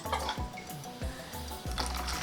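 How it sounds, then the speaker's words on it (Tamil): Water pours into a pot of roasted oats, about three tumblers' worth, as a steady splashing rush broken by short gurgling surges, close and moderately loud. "நல்லா ஒரு 3 டம்ளர் அளவுக்கு தண்ணி ஊற்றிருக்கேன்"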